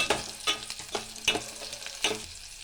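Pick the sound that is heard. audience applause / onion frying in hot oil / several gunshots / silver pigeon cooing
onion frying in hot oil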